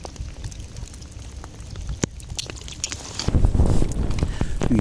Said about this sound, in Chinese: 雨又下大了